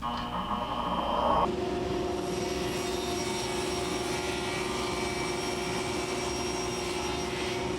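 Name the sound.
table saw cutting a pass with miter gauge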